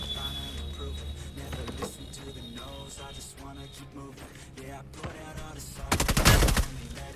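Rapid bursts of automatic gunfire in the mobile battle royale game PUBG New State, clattering rattles of varying intensity with a louder, denser burst near the end.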